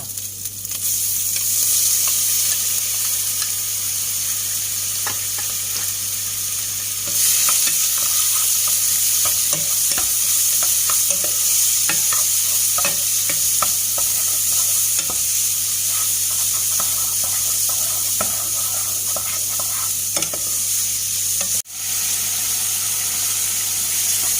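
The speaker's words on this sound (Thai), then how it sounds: "ใส่กระชายนะคะปู้จะใส่กระชาย แล้วก็ตัวหอยขมลงไปคั่วก่อนค่ะ" River snails and fingerroot stir-fry in a pan for a Thai curry, giving a steady loud sizzle throughout, with scattered scrapes and clicks of stirring and no voices.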